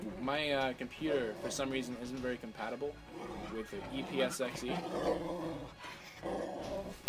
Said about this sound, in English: So sorry about the dog growling there.